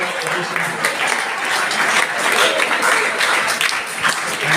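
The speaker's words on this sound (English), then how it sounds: "Big round of applause to all of you for making this activity even more efficient." A school class in an AI program applauds loudly and continuously, a dense close wash of clapping that holds steady throughout, with voices mixed faintly underneath.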